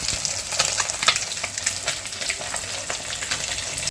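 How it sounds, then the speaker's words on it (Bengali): Fish pieces fry in hot oil for a home-cooked Bengali curry, a continuous close sizzle with crackling spits and pops, and no voices. "মাছগুলো ভেজে নেব"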